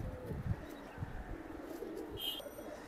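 Military pigeons coo softly and low, with a few brief throaty pulses heard nearby over faint background noise and a distant higher chirp.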